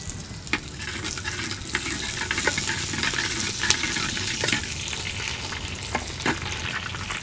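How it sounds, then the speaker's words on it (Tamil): Ingredients for rasam fry in hot oil in a pan, a steady crackling sizzle with scattered sharp pops and occasional stirring scrapes, close and continuous with no talking. "அதையும் இப்போ எண்ணெயில் நல்லா வணக்கணுமா?"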